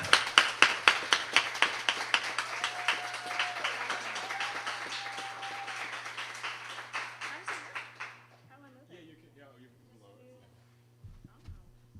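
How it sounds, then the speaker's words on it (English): An audience claps for a poet at a Black artists showcase, a burst of applause that starts with loud sharp claps, thins over several seconds and fades into quiet room hum, with a voice audible during the clapping. "Please give an uproarious round of applause for Nadia Frazier"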